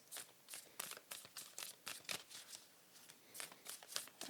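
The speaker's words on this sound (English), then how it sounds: "Kind of hard to shuffle these." A deck of tarot cards is shuffled by hand in quick, repeated riffling bursts, soft and close with short gaps between each flurry.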